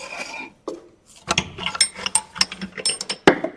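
A metal knockout bar rattles and clanks inside a lathe's headstock spindle, a run of close, loud metallic ratcheting knocks and scrapes with sharp irregular hits, no talking.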